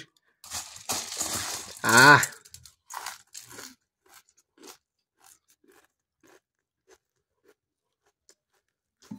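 Close, loud crunching of puffed rice (muri) eaten with tea in a few quick bites, then faint scattered chewing and small clicks fading into quiet.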